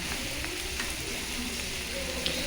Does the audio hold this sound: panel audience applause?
no